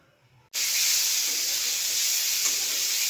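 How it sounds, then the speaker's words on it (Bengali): Eggs going into a hot pan to fry: after a brief quiet moment, a loud sizzle bursts in and settles into a steady, bright hiss, close and uninterrupted. "ডিমগুলো ভাজে নিচ্ছি।"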